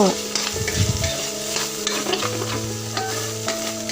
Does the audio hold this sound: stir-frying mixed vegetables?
yes